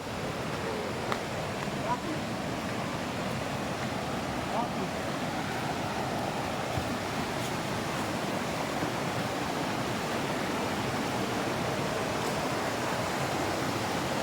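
A river swollen by overnight rain flows strongly, steadily and loudly throughout, a continuous broad roar with no pauses.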